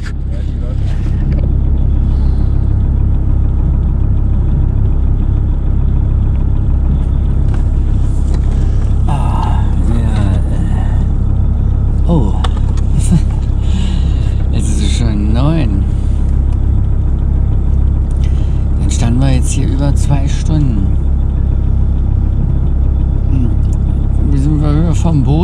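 A car drives back into a small town in the Swedish wilderness, its steady low engine rumble loud and continuous throughout, with people talking over it at times.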